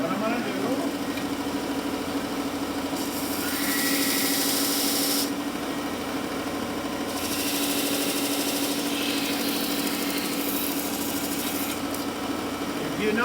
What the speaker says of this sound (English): use a belt sander for this task.